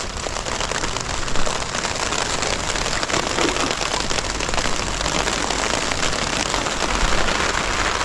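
Heavy rain pours down in a dense, steady roar, drumming on surfaces close by without letup.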